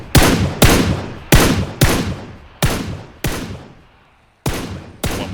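Video game gunfire, seven loud individual shots at a town target, each followed by a decaying echo, spaced irregularly with a longer pause before the last two.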